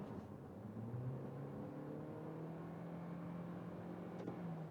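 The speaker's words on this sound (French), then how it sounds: "faisons d'abord une petite accélération, disons de 70 à 100" A 2026 Toyota Corolla Cross facelift's engine hums and rises smoothly in pitch as it accelerates from 70 to 100, heard from inside, steady and moderately quiet with no speech.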